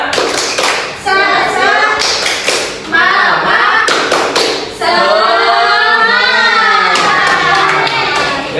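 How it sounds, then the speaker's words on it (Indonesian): A sixth-grade classroom does a rhythmic 'tepuk semangat' spirit clap: loud bursts of group clapping in a patterned beat, mixed with children chanting and shouting along in unison. "Ayo, 1, 2, 3, tepuk semangat."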